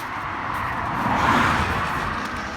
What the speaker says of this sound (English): There's another car coming now.